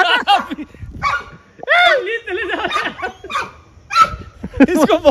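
A dog on a farm with desi cows barks in several sharp, loud, close bursts, mixed with people talking and some laughter.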